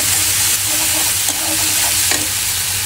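Onion, garlic, ginger paste and dried chilies sizzle and fry loudly in hot oil for dal bhuna, a steady close crackle with stirring sounds and no talking.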